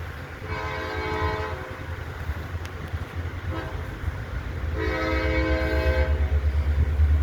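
Horn of a CSX or Norfolk Southern locomotive (units 6460 and 3013) on a Norfolk Southern switching railroad: two loud sustained blasts, the second longer, over a steady low diesel rumble.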